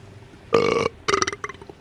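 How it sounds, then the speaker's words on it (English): Two loud, drawn-out burps in close succession, the first a single long belch and the second broken into several choppy bursts, heard alone with no talking. "Ooh, I got the burps. They're so big right now."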